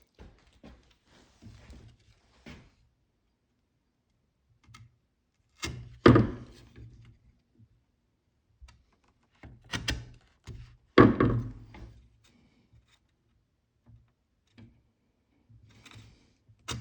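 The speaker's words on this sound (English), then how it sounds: "It's a mortising chisel." Sharp wooden thunks from a mortising chisel chopping a mortise in a chair part, struck in scattered single blows and short bursts at close range, with quiet gaps and faint tapping between them.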